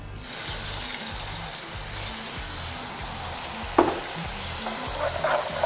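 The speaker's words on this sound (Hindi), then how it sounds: "और इसको अच्छी तरह चलाएंगे।" Rice and spices are stirred with water in a cooking pot, giving a steady sizzling, bubbling wash with scraping strokes of the spoon, close and continuous.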